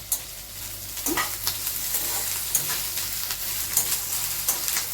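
Cut okra sizzles and fries in a pan over high heat while being stirred, a continuous close crackle broken by scraping strokes of the spoon at irregular intervals, with no talking.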